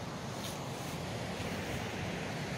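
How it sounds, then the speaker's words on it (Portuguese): Water springing from rocks and running down toward a river near a waterfall, a steady broadband rushing wash with some wind-like noise, continuous and fairly faint, with no voices. "A água vem brotando das rochas, ó, para descer aqui para o rio"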